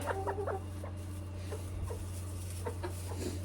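Hens cluck softly in their new coop in short scattered bursts against a constant low hum, a few clucks close together at the start, then sparse calls.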